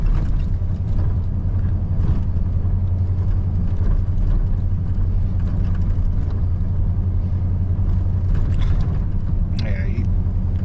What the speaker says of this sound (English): We are going down a paved road and it's pretty bumpy